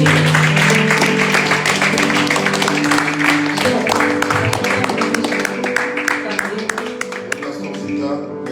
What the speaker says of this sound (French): Give the Lord a mighty hand.